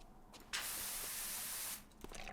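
Pressure washer jet in PowerWash Simulator cleaning a muddy monster truck: a steady, bright hissing spray that starts suddenly, holds for over a second, then stops, heard alone at a modest level.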